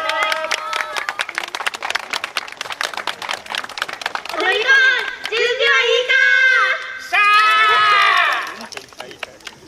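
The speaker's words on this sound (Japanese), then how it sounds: "皆さんも温かい歓声や手拍子よろしくお願いいたします" Crowd at a Japanese city summer festival dance performance, the 2024 Asaka Saikasai, with rhythmic hand clapping and cheering mixed with loud voices, swelling into sustained bursts of applause-like noise with shouts over it.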